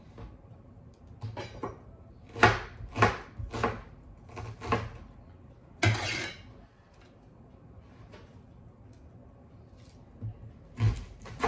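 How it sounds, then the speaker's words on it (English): A knife chopping small onions on a board, a run of sharp close taps in quick bursts with pauses between, separate cuts clearly audible against a quiet room. "I lost track of how many onions I've cut here"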